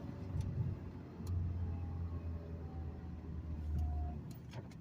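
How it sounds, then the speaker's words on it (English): A manual stick-shift car engine hums at moderate, fairly quiet volume while downshifting, its low drone swelling and easing as the revs change, heard from inside the cabin with steady road noise. "Downshifting into second because I'm doing 30."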